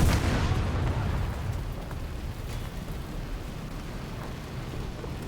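A tank explosion in a War Thunder battle: a loud, heavy boom opens the clip and decays into a long, rumbling low roar that stays steady and dense to the end.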